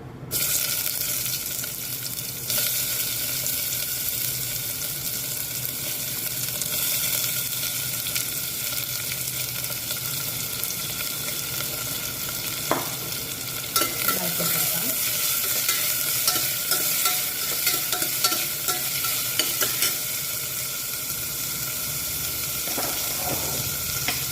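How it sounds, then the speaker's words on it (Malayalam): Onions fry in coconut oil in a pan for a chicken and potato curry, giving a steady close sizzle broken by scraping stirs, with no voices. "അതിന് 3 ടീസ്പൂൺ വെളിച്ചെണ്ണ ഒഴിക്കാം. 2 ഇടത്തരം വലിപ്പമുള്ള സവാള ഇടാം."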